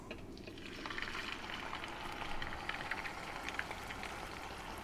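Shrimp dropped into hot oil at around 350 to 375 degrees, producing a dense, continuous bubbling sizzle that swells after the first moment and holds steady, close and fairly loud with no talking.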